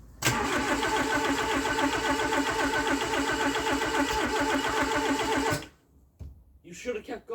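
A turbocharged Nissan Micra engine cranks loudly and steadily for about five seconds on its first start attempt without catching, then cuts off into near quiet with faint handling noises.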